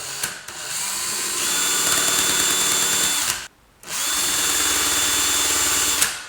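Swan neck woodcarving gouge held against a spinning grinding wheel, a loud steady high whine with a grinding edge, cutting off briefly near the middle before resuming.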